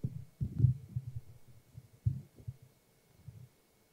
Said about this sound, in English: there was a farting sound.